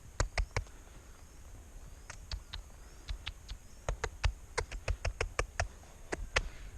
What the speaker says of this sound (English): I'm just doing a little series of clicks instead of doing any squeezes or anything.